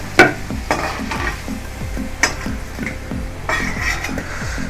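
Potatoes frying in a wok as a spatula stirs them, sharp metallic scrapes and knocks against the pan in an uneven rhythm over a soft, continuous sizzle, close by.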